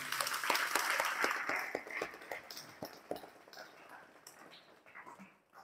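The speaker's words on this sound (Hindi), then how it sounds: "तो एक बार हम सभी तालियों के माध्यम से उनको धन्यवाद देंगे।" A small yoga gathering claps to thank their teacher, a brief patter of individual hand claps that thins out and fades into scattered taps.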